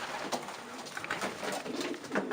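Soft, low pigeon coos repeat in quick succession, fairly close, against a quiet background.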